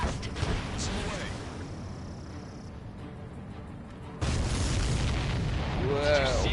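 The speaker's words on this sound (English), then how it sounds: "see that explosion?" A heavy boom from an aircraft combat game, Ace Combat 7, rumbles loud and close after a quieter stretch of jet noise, with a second burst near the end; no talk.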